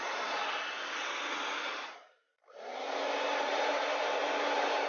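A hair dryer blows a loud, steady, close rush of air to dry lipstick, cutting out briefly near the middle before starting up again and running to the end.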